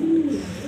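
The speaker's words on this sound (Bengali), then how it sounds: "এলো মাদি কবুতরটা" A female pigeon in a loft gives a short, low coo up close, a single soft throaty call lasting under a second.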